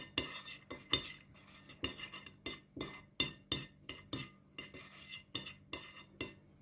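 A spoon stirs and clinks against a bowl of yeast and sugar mixture for pandesal bread dough, with a steady run of quick, close scraping taps repeating about twice a second.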